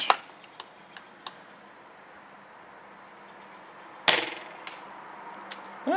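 Echo 1 M28 airsoft rifle firing outdoors in a windy area: a handful of sharp, isolated snaps spaced irregularly, one louder crack midway followed by a couple more light pops over a faint breezy background.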